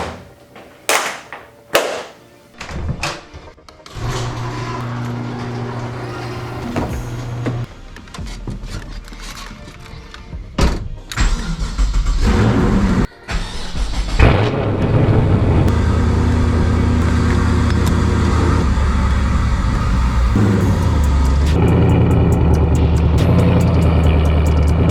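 A BMW E36 M3 with a swapped naturally aspirated LS1 V8 making about 450 hp: loud clunks and door or hood sounds first, then the engine fires and idles with a deep steady rumble before revving and pulling away under load.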